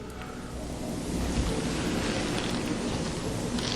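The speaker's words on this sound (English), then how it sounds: "Here's the river, my friends." Steady broadband rushing of river water, a continuous wash that swells slightly after the first second and holds even and fairly close throughout, with no voices.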